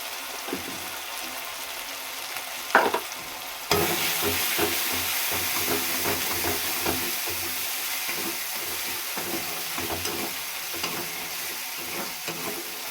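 Meat coated with turmeric and chili powder sizzles steadily in a hot pan while being stirred, with scraping strokes and a brief louder clatter early on, continuous and close with no talk.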